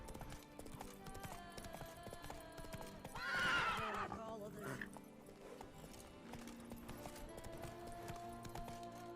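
A horse in The Witcher 3 video game gives a loud whinny midway through, with hoof clip-clops and game music underneath, and someone talks.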